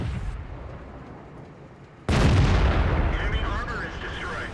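A tank cannon fires in a tank battle video game, one sudden heavy blast cutting into a low engine rumble, followed by a long rolling echo and rattling debris that fade slowly.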